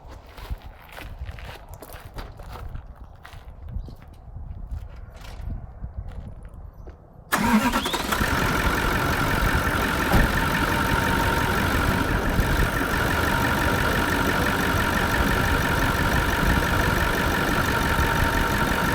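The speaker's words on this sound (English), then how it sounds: "The engine's running right now" A Toyota 70 series LandCruiser engine cranks and catches abruptly after a quieter stretch of faint footsteps and handling noises, then settles into a loud, steady, continuous idle close by for the rest of the time.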